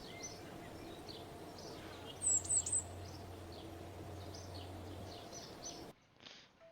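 Ambient birds at the Kerbal Space Program space center chirp in thin, high calls over a steady low background hum, with a brief louder cluster of chirps midway before the scene cuts to near quiet.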